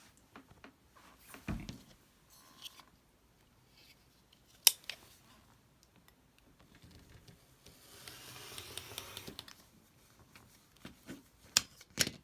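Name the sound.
cutting fabric strips for a quilt block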